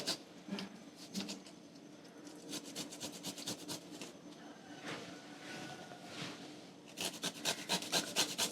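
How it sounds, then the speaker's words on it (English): Fresh ginger is rubbed against a grater for chai, giving quick bursts of rasping strokes, some in fast rhythmic runs, close by and fairly quiet. "I'm gonna grate it in so we get the best flavors out of the ginger"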